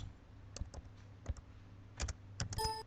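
Keys clatter on a computer keyboard in short irregular clusters of taps while patient details are entered, close and fairly quiet, with a brief electronic tone at the end.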